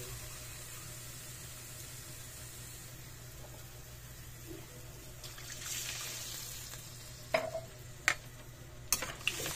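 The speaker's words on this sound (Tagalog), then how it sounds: "Lagyan natin siya ng sabaw. Dalawang basong sabaw." Broth poured into a pan of sautéed mussels with water spinach gives a low, steady simmering wash, followed by a few sharp clinks and knocks near the end.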